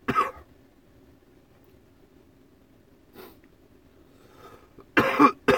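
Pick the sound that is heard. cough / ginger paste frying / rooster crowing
cough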